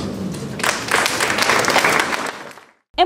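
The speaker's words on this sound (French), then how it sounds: "on peut les applaudir." An audience applauds the top students of the academic year at a ceremony, a full round of clapping that swells and then fades out before a brief cut.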